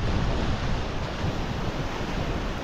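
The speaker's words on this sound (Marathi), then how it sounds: "समुद्राच्या लाटा बंदरावर येऊन जोरदार आदळत आहेत." Sea waves crash heavily and continuously against the harbour at Palshet, Guhagar, on the coast, a loud, steady roar of surf with wind buffeting the microphone throughout.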